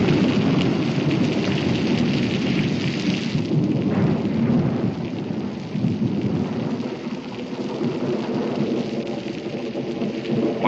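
Steady heavy rain pours under rolling thunder in a frontier Western setting, a dense continuous wash of rainfall with low rumbles swelling and fading throughout.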